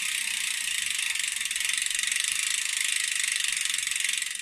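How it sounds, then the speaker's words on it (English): A freewheel hub on a Vision SC55 carbon road bike rear wheel ticks in a fast, steady, even ratchet buzz. It is close and clear, with no talking over it. "Quite nice hub sound as well."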